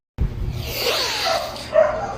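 A single dog barks close by, one sharp bark followed by a short, higher yelping tail, with no other sound around it.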